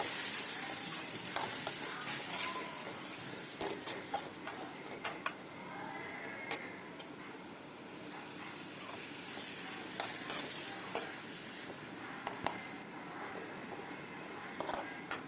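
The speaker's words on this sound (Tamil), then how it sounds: "தக்காளி நல்லா வதங்கட்டும்" Chopped tomatoes sizzle and crackle in a hot pan while sautéing for bitter gourd curry, with occasional clicks and scraping stirs, fairly quiet and without talk.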